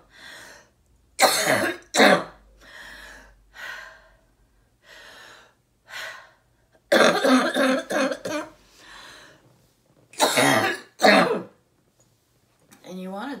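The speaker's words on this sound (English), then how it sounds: "I'm gonna keep coughing stuff up." Repeated throat clearing and wet coughing from someone bringing up mucus from the lungs, several bursts spread across the stretch with breathing between them, close and fairly loud.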